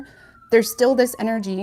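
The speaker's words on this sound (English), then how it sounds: "sorry about the sirens" An emergency siren wails outside with a steady, slowly falling tone, running throughout at moderate distance beneath continuous talking.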